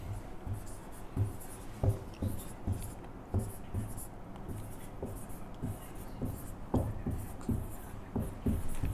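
Pen or marker writing a multiplication table by hand, close scratchy strokes and taps in an irregular rhythm, with faint room noise and no clear talk.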